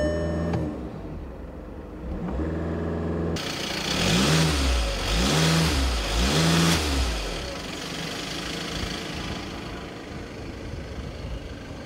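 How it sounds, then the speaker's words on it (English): A silver 2015 Volkswagen Golf TDI diesel engine idles and then revs several times in quick, rising-and-falling bursts, close and fairly loud, settling back to a steady idle afterward. "Listen to the engine."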